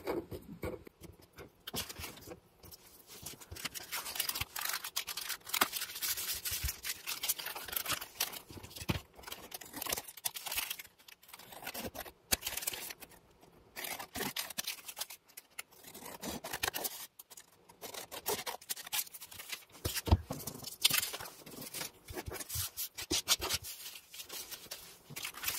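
Scissors snipping through paper while trimming an envelope pocket for a crafting project, a run of crisp cutting and scraping strokes at close range with pauses between, no talk.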